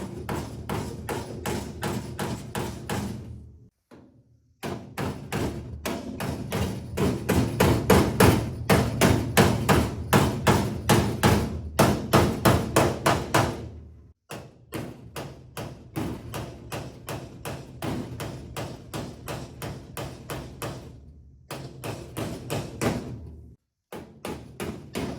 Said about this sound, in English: I'm just gonna go in here and hammer around a little bit